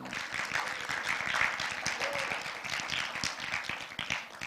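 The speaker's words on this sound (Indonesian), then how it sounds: "Beri tepuk tangan yang..." An audience at a church gathering breaks into steady applause, a dense patter of many hands clapping from a moderate distance, sustained and fairly even without speech.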